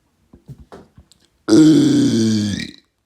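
A few soft, brief mouth noises, then one long, loud, drawn-out burp lasting about a second, close to the microphone.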